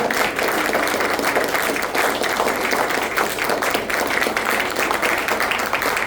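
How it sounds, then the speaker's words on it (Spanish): An audience applauds young award recipients with steady, even clapping that fills the room at a constant level from start to finish, with no talking over it. "¡Bravo! Un aplauso."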